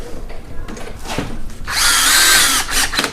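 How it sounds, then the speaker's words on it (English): A cordless drill whirs in short bursts, then runs in one sustained, loud high-pitched whine as a screw is driven in, with tapping around it, while working on a 2016-2018 VW Jetta 1.4L. "reverse direction on your drill, and just start putting"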